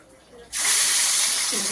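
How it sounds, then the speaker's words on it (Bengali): Shrimp rubbed with salt and turmeric hit hot mustard oil in a wok, setting off a sudden loud, steady hiss that stays strong and close until the end. "আর এখানে চিংড়ি মাছটা ভাজা হচ্ছে।"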